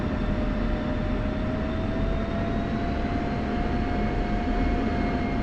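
An F-16 taxiing toward the runway in the DCS World flight simulator gives a steady, loud jet engine whine and rumble, with a constant high tone running unbroken under the roar.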